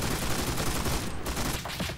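Machine gun fire in a WW2 trench-combat video game: a dense, continuous rattle of rapid shots with overlapping gunfire all around, loud and unbroken throughout.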